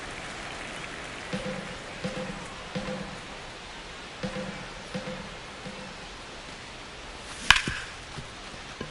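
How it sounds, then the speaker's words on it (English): Steady rain hisses over a baseball field in MLB The Show video game, a constant wash with faint rhythmic thumps and one sharp crack near the end, no talk. "the field's not going to be able to hold up if the rain gets any worse than this"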